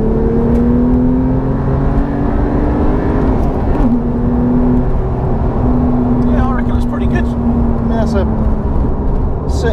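A Porsche 911 Carrera T's twin-turbo engine pulls hard under acceleration, its tone climbing steadily with a gear change partway through, heard from inside the car.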